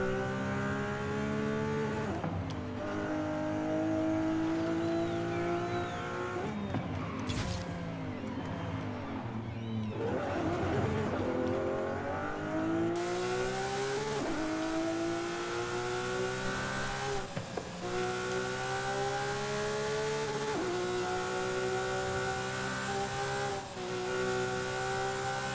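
A Lamborghini Aventador SVJ supercar in Forza Horizon 5 revs hard and climbs through gears, with a loud continuous engine howl, repeated upshifts and a brief rough patch, and little or no talk over it.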